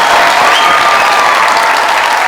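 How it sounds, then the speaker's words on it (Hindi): Dense, loud applause from an Eid stage show audience for a poet reciting shayari, a continuous roar of clapping hands filling the whole stretch without pause. "तो मेरे इस शायर के लिए भरपूर तालियां"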